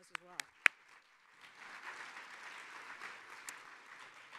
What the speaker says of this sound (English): So give yourselves a round of applause as well.